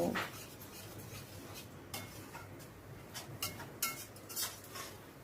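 Spice paste being stirred and fried with chicken stock in a pan for a chicken curry, heard as a faint steady sizzle with soft scraping and light ticking taps of a spatula.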